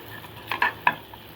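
A sautéed potato mixture stirred in a pan, probably a salted mix for potato garlic rings: three short scraping stirs over a soft, steady background hiss.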